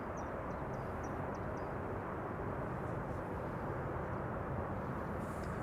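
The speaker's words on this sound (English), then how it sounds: "Here we have an Embraer 195 arriving from Warsaw. And of course a polished landing," An Embraer 195 jet arriving from Warsaw lands at Amsterdam Schiphol Airport, a steady, distant broadband engine roar filling the whole stretch with faint chirps above it and no talking.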